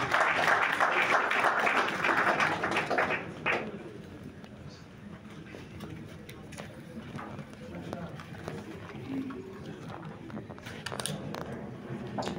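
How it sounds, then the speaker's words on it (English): Audience applause at a mechanical engineering lecture event in Nigeria, honoring a senator as speaker; loud, dense clapping for the first few seconds, then fading into softer scattered claps and murmuring crowd noise with some speech. "Please a round of applause for him."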